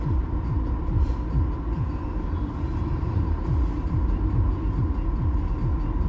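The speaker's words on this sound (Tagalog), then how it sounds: "Ayun ang tren" A train rumbles past near a bridge on a winter day in Canada, a steady low roar with repeated rhythmic clacks of wheels over rail joints, loud and close throughout with no talking.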